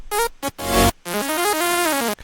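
A synth stem from Suno AI-generated music, a bright buzzy lead playing short staccato notes then a gliding, stepping melodic line, loud and upfront with no speech.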